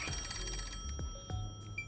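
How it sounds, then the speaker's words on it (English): A telephone rings in the video game Master Detective Archives: Rain Code, a short repeating electronic ringtone heard alone at moderate level with no talking over it. "Alright, I'm answering the phone. I don't want it to keep being annoying."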